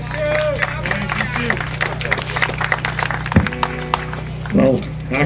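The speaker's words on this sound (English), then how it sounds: "And give her a great round of applause." Applause from a crowd at a Slab City community group board meeting, steady clapping with murmured voices and a brief louder burst of speech near the end over a constant electrical hum.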